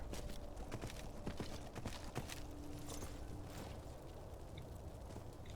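Horse hooves clip-clop in the video game Skyrim as a flaming horse walks through town, a steady rhythm of soft repeated thuds over continuous ambient game noise.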